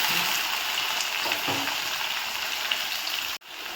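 Cut potatoes and jackfruit frying in hot oil, giving a dense, steady close-up sizzle with light stirring scrapes, which ends abruptly near the finish.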